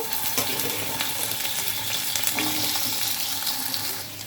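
Taro and potato pieces fry in a pan with black cumin, salt and turmeric, giving off a continuous, loud, even sizzle with no voices.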